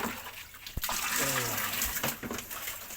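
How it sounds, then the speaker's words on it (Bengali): Running water splashes over a mug as it is washed by hand, a steady close gush with clattering handling and a brief knock, while a person talks over it. "মগটা ধুয়ে নিতে হবে"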